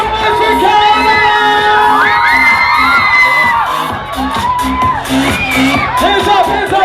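A party crowd, children among them, cheers, whoops and yells loudly over thumping music, with excited shouting voices rising and falling throughout.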